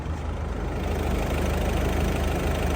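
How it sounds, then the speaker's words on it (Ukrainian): A Ford Focus ST-line engine idles steadily up close, with a smooth low rhythmic thrum that stays even throughout and has no talk over it. "Двигун робить рівненько."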